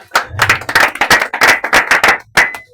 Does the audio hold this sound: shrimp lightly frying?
no